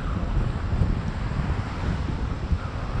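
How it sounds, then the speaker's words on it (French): Outdoor wind buffets the microphone with a constant low rumble and gusty roar, loud and steady throughout, with no speech over it. "t'entends rien parce qu'il y a le vent en toile de fond"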